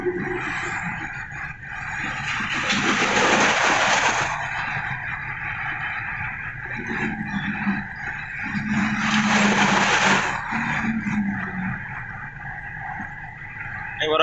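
A car speeds along a road out of Kolkata at 2 AM, a steady road-and-engine roar that swells twice as vehicles rush past nearby.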